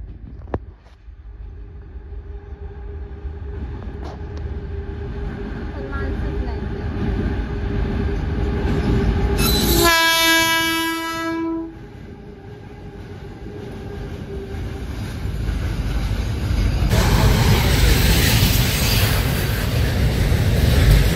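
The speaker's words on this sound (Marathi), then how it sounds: "आली ट्रेन." A passenger train arrives at a village railway line, a loud close rumble of rolling wagons building through the clip with a sustained horn blast in the middle, people talking briefly in the background.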